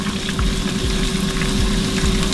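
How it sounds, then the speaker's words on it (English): Steady sizzling and bubbling of onions, ginger and garlic paste frying in hot oil, a continuous crackly hiss with soft pops, fairly close and moderately loud. "I want the onions, the ginger, and the garlic to fry together. It's frying well."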